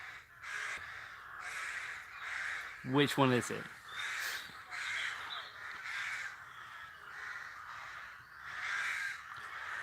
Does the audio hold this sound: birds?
yes